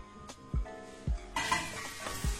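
Onions, carrots, celery and leeks sizzle and fry in hot olive oil in a pan for bolognese lasagna, with several clear stirring scrapes and clinks of a utensil against the pan over a steady close sizzle.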